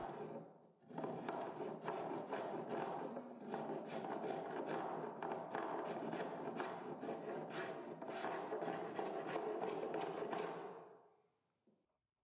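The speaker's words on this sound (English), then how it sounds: "Then I switch to a spoked shave for the dips and bumps and lumps that the plane can't get into" A spokeshave rasps steadily along a wooden shelf edge, fast repeated strokes forming a continuous scraping texture for about ten seconds before stopping, with no talking.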